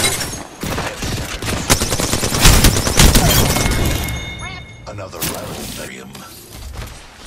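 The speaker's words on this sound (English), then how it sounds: "Turret ripping through!" Sustained automatic turret fire in the video game Apex Legends, a loud continuous stream of rapid shots with sharp impacts and shattering, swelling in the middle and tapering off, with voices talking over it.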